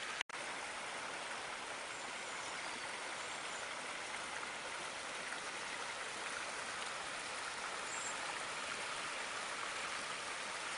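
A woodland brook at the bottom of a ravine flows steadily, a continuous broad rushing and babbling that holds even and unbroken throughout.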